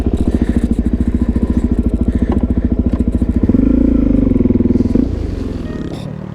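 A motorcycle climbing a slope, its engine loud and close with a fast pulsing thump that rises into a strained roar midway before easing off, with some clatter.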